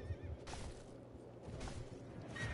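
A horse in the video game Sekiro: Shadows Die Twice whinnies in a quivering, rising neigh, faint and alone against a quiet background.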